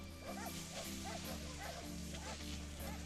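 Sled dogs bark and yip in a repeating run of short, sharp calls, roughly a bark every half second, moderately distant over a steady low rumble.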